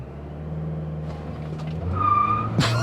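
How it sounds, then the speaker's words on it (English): A 2023 Toyota Corolla Cross Hybrid XSE, an all-wheel-drive small SUV, launches hard in sport mode. Its motor hum builds into a brief high tire squeal as the tires spin, ending in a sharp rising burst. "It actually spins the tires."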